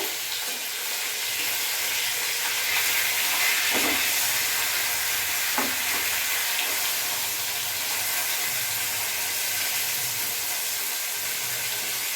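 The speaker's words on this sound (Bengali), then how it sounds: "মাছগুলো আমি উল্টে ফেলবো। এক পিঠ আমার ভাজা হয়ে গেছে।" Fish frying in oil in a pan, a continuous broad hiss and sizzle that holds steady throughout, with a couple of faint clinks or bubbles popping underneath and no talking.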